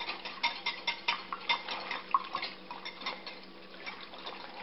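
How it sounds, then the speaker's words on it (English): Philadelphia cream cheese being whisked into broth in a small bowl, making a steady run of quick scraping, clinking strokes with a wet edge, close and moderately loud, alone. "whisk in the Philadelphia cream cheese"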